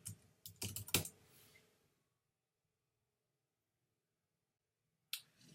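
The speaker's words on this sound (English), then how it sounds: "type in the domain name you want" A quick run of keystrokes on a computer keyboard is heard up close, followed by a silent gap and a few more key clicks at the end.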